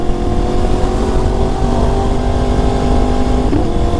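Steady road traffic in Houston, a continuous engine and tire rumble of passing vehicles that stays loud and close throughout, with a faint rising tone near the end.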